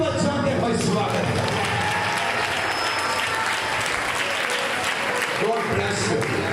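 A church congregation claps in welcome, a continuous, even roar of many hands that holds steady throughout, fairly close and full, with no speech on top.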